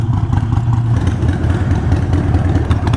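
A Harley-Davidson Iron 883 motorcycle rumbles steadily while being ridden, a loud, continuous low engine drone with slight rises and dips in pitch and no talking.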